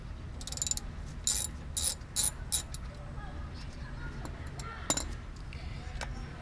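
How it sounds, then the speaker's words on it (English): A ratchet clicks in quick bursts while loosening the brake caliper bolts, 14 millimeter, on a 2008 Toyota Corolla, the close metallic pawl ticking in several short runs against faint background noise. "let me just take off these caliper bolts"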